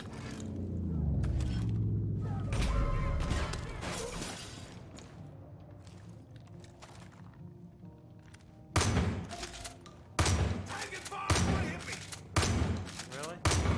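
Video game gunfire in a sniper fight, several sharp loud shots in the back half after a stretch of rumbling, clattering game noise, the bursts spaced irregularly and close.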